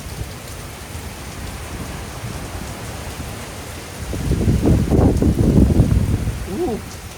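Hurricane Milton in Florida brings a steady roar of wind and rain, then a stronger gust swells loudly in the second half and buffets the recording close up.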